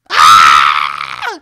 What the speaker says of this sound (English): I'm gonna scream